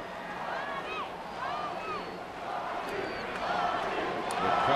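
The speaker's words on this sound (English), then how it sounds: "The crowd beginning to chant, Bobby, Bobby" A baseball crowd at an Angels home game against the Yankees chants a name for the former Yankee Bobby Abreu. Rhythmic rising calls repeat over steady stadium murmur and grow louder toward the end.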